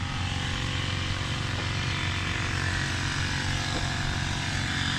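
A motorized engine crop sprayer runs in a bitter gourd field, giving a steady, loud mechanical drone with a buzzing rhythmic pulse that fills the whole stretch without pause.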